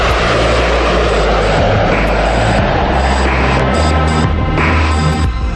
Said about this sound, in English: When the B-2 makes its maiden flight on July 17, 1989, it flies every bit as good as it looks.